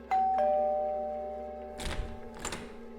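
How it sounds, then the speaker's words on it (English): A doorbell rings with a clear two-tone chime whose notes sustain and slowly fade, followed by a couple of dull knocks or thumps near the end; no one speaks. "the doorbell rang again"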